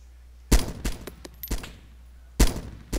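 Gunfire in the Arma 2 video game: sharp, loud shots in short bursts, three clusters a second or so apart, with quieter rapid cracks between them and no talking.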